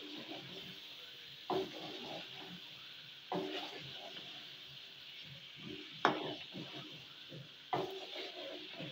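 Food being mixed and stirred in a pan while it roasts. A quiet, soft sizzle runs underneath, and four distinct scraping stirs come at regular intervals.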